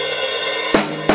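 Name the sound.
drum fill on the snare drum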